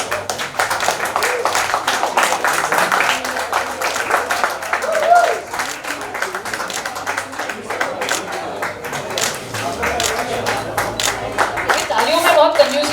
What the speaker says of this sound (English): Can we all clap, please?